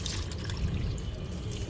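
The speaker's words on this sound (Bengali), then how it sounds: "বেশি করে পানি দিয়ে দিই।" Water is poured steadily on a rooftop while clearing it for a picnic, a continuous close splashing pour lasting under two seconds.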